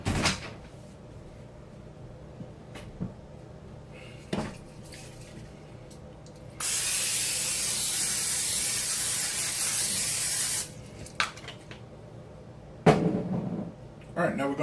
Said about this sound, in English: going to spray that with Pam.